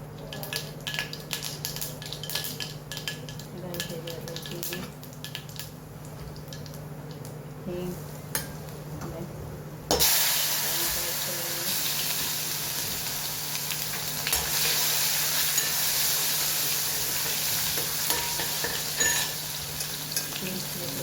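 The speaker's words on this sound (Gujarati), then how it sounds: "3 પડી જેટલું તરત તેલ લઈ લીધું, તેમાં રાઈ એડ કરીશું." Mustard seeds sizzle and crackle in about three ladles of hot oil, a steady frying hiss with scattered clinks of a spoon against the pan, growing louder and brighter partway through.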